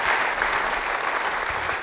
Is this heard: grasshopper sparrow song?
no